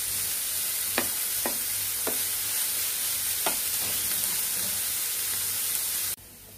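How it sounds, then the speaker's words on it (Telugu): Ridge gourd peels fry in a pan with a steady, close hiss, broken by several sharp scrapes of stirring before the sound cuts off abruptly near the end. "మనకి ఇవి బాగా ఫ్రై అయిపోయినాయండి."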